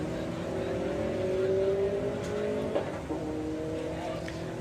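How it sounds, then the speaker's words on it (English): Volkswagen drag race cars launch at Santa Pod Raceway, heard from a distance as rising engine tones that climb in pitch over several seconds, with faint crowd and commentary background. "Green light drag race."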